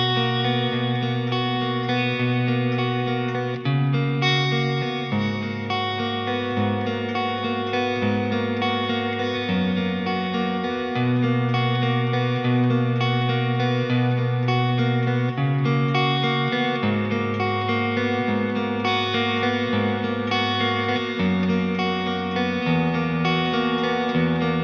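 Distorted electric guitar plays a slow ballad chord motif, sustained chords shifting every second or two, loud and continuous with effects, chorus and reverb washing over them, no voices.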